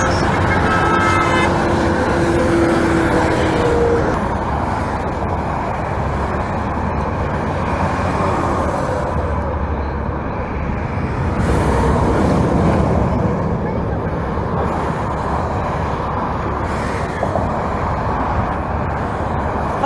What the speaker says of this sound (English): lots of honks.